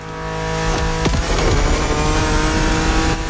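A race car in The Crew Motorfest accelerates hard from a standing start with traction control off, its engine revving up loud and close with shifting gears and a hint of tire squeal.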